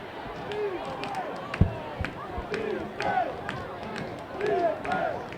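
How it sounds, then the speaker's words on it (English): A high school football playoff crowd chants and cheers in a rhythmic, rising and falling roar, urging on the defense, with scattered shouts, claps and a sharp bang partway through. "The crowd chanting defense here, urging on that Cardinals D."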